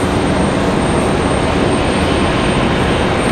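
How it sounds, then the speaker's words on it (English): An MD-11 jet moves at Raleigh-Durham airport, giving off a loud, steady broadband engine roar with a faint high whine, continuous and unbroken throughout. "Alright, our MD-11. I see you moving."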